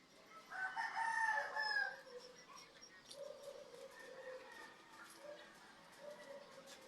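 Red Tiger breeder rooster crowing once loudly nearby, a long drawn-out cock-a-doodle-doo, followed by quieter clucking and someone speaking in the background.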